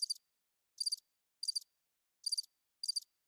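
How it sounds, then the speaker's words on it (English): Crickets chirp in five short, evenly spaced bursts, each a quick high trill standing out against otherwise near-total silence. "Crickets."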